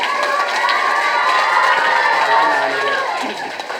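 An outdoor crowd at a Vana Samrakshan Mahotsava rally stage in Rangampet cheers and shouts continuously, with children's high voices prominent in a dense, lively roar.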